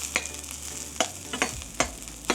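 Vegetables for tofu lo mein sizzle in a hot pan as they are stirred, with a spatula scraping and clacking in irregular strokes over a steady soft frying hiss.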